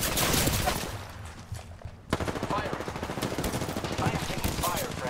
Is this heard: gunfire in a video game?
yes